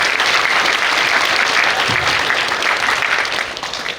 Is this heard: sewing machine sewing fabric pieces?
no